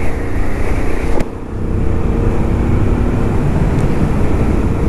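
A Benelli Imperiale 400 motorcycle with a 2020 single-cylinder 400cc engine runs steadily at low revs, a loud constant rumbling drone with a brief dip after a sharp click, close to the microphone.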